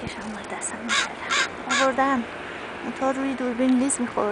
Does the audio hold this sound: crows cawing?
yes